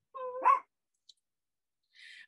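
A puppy gives a short high bark followed by a quick yelp, then a faint click and a brief breathy whine after a pause, close and alone.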